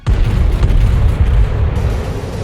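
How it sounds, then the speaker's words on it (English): The 16-inch naval guns of the battleship Rodney firing, a single deep, heavy boom that bursts out loud and rolls on as a low rumble for over two seconds, with no voices. "but then Rodney's 16-inch guns fire"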